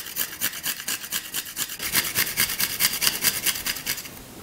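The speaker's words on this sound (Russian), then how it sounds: "2 зубчика чеснока отправляю через мелкую терку" Two garlic cloves rubbed over a fine kitchen grater for a crab salad give a close, rhythmic rasping, with quick scraping strokes repeating steadily at about four per second and no talking.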